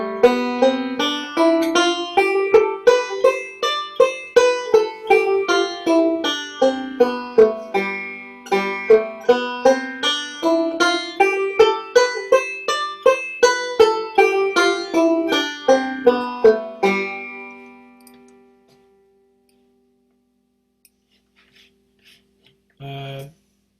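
A G Mixolydian scale is played note by note during a lesson on fiddle tunes in G. Clear, evenly spaced notes climb and descend twice over about seventeen seconds, then fade to near silence, with a brief muffled sound at the end.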